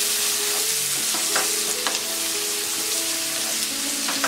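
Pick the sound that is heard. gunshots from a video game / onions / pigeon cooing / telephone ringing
onions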